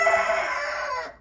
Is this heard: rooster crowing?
yes